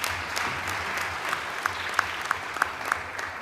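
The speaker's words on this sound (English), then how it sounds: "E chapeleng matsogo bana ba go gae." An audience at an Economic Development Committee annual report meeting applauds, a steady close patter of many hands clapping with a few sharper individual claps standing out, and no speech over it.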